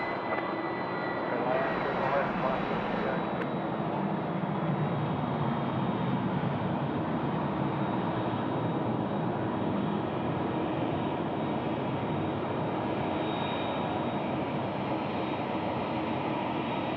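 A Jetstar airliner rolls for takeoff on runway 34 left at Sydney Airport at night, its engines a steady, broad roar that holds for the whole stretch, heard from a distance with faint talk over it.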